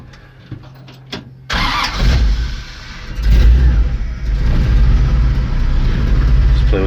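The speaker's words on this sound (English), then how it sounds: "So quick cold start on this thing." Carbureted LS 5.3 V8 in a swapped Dodge W100 truck cold-starting: a few clicks and cranking, then the engine catches loudly, surges in a rev and settles into a rough, loud idle close by.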